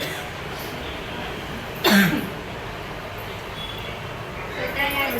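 A single short cough breaks out close by against a steady low background rumble, followed by quiet.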